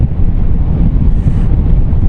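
Loud, low roaring wind buffets the microphone continuously on a moving Triumph Tiger 660 Sport motorcycle, a heavy rumbling rush with no pauses.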